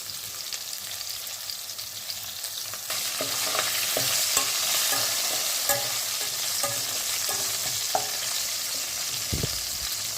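Salted onions fry in a pan with a continuous close sizzle that grows louder partway through, scattered spatula clicks and stirring scrapes, and no speech.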